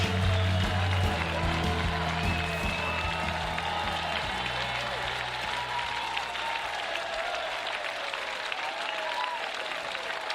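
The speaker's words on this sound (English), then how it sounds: "Wonderful ovation from this crowd" Large crowd at a London 2012 Paralympic wheelchair tennis medal ceremony giving a sustained ovation, steady loud applause and cheering filling the whole stretch, with a brief low tone near the start.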